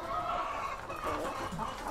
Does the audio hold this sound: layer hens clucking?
yes